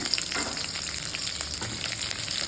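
Green chillies and cabbage fry in a pan with a steady, dense sizzle, broken by occasional stirring scrapes, close up and without any talking.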